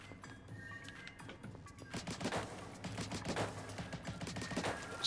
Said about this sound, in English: I'm shooting you in the head!